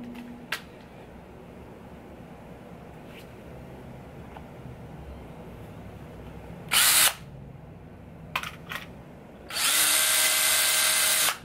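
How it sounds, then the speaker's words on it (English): A power drill whirring in two bursts, a short one first and then a longer steady run near the end, loud and close over a quiet room with a few faint clicks between. "Fuck a hammer, I'm using a drill."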